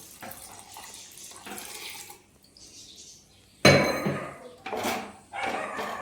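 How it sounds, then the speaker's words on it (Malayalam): Water runs and splashes while a mixer grinder jar is rinsed out in a kitchen during rasam cooking, quiet at first, then two loud close bursts of gushing water with faint clinks of the jar. "അതിൽ തന്നെ നമുക്ക് മിക്സിയുടെ ജാറ് കഴുകിയിട്ട്"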